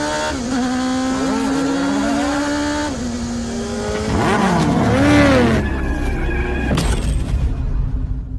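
Cars revving and accelerating at the start of a drag race, with rising and falling engine pitches, a surge of sound midway and squealing sweeps before the noise cuts off sharply near the end.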